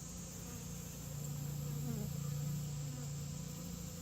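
Bees swarming at their hive, a steady close buzzing drone with one louder wingbeat whine passing through the middle, no voices.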